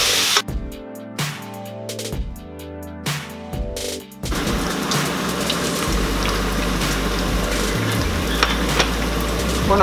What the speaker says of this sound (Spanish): lo vamos a ir moviendo para que no se nos pegue nuestro bacon